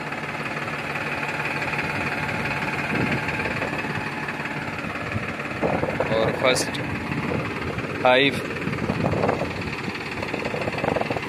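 Escorts Powertrac tractor in first gear high pulling an 8-foot soil leveler through a field, its engine a steady low drone throughout, with wind buffeting the microphone and someone talking over it.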